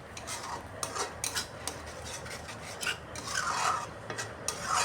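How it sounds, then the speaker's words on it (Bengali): Spice paste for a sesame okra dish is stirred and fried in a pan, giving repeated rasping scrapes of a spoon against metal in an uneven rhythm, close and fairly quiet, with no voices. "মশলা এমনভাবে কষাচ্ছি যাতে কোনো মশলারই এখানে কাঁচা গন্ধ না থাকে"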